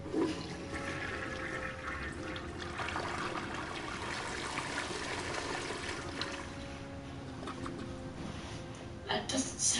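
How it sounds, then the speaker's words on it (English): A toilet flushes in the video game Heavy Rain, a steady rushing, gurgling wash of water that runs for several seconds with a louder surge near the end, with people talking over it. "That doesn't sound like a good working toilet."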